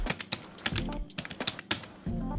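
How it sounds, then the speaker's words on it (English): Quick, uneven keystrokes on a computer keyboard, a close, crisp run of clicks with short pauses between bursts and no talking. "So type offline"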